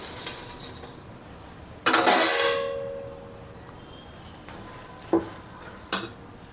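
Peanuts are stirred into hot jaggery syrup in a pan for peanut laddu. A sudden scraping, sizzling stir fades out, followed by a couple of light clinks of a spoon against the pot. The sounds are close and there is no talk.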